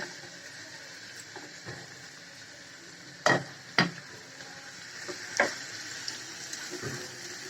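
Chicken for a chicken korma cooks on a stovetop burner with a steady, moderate sizzle, broken by a few sharp clanks of a utensil against the pan.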